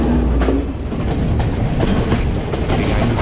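A Sri Lankan passenger train runs on its rails with a loud rumbling roar and repeated clickety-clack beats from the wheels over the joints, heard from inside a carriage, with no talk.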